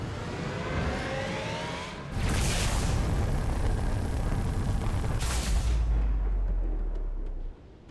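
A cut Scarab walker modded into Halo 3 fires its main weapon, a sudden loud, sustained roaring blast that swells in and holds for about five seconds before cutting off, with no voices.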